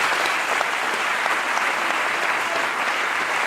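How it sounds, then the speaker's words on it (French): An audience at a political opposition convention applauds, a loud, dense and continuous wash of many hands clapping together that keeps up for the whole stretch without any talk over it. "Applaudissez-les."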